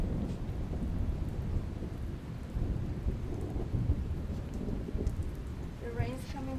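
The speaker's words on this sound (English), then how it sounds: "The rain's coming down hard on there." Heavy rain pours down steadily with deep rumbles of thunder rolling underneath, a dense, continuous wash of sound close by.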